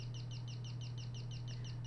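Bird song in the horror game Devotion: a rapid, regular series of bright twittering chirps repeating without pause above a persistent low drone.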